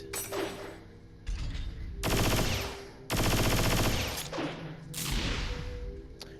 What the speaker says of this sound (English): this is Haseo's final form, the Xth Form. The dual guns